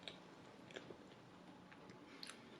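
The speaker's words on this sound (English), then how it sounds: "I'm chewing very carefully." Soft, close chewing and biting of king cake at a Mardi Gras party, with faint moist crunches and clicks over a steady quiet background.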